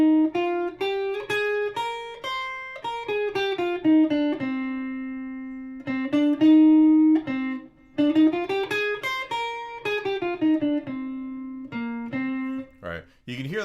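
Guitar plays a minor scale in the Aeolian mode, single notes stepping up and down in a steady run with a few held tones and brief pauses, clear and close with no talking.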